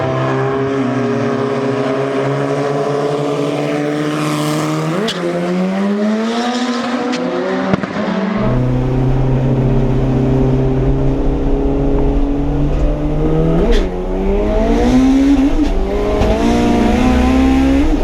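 A naturally aspirated K-series Honda Civic makes an eight-second drag strip pass, its engine screaming loud and close as it climbs through the gears with sharp shift breaks, holding a sustained high wail to the end.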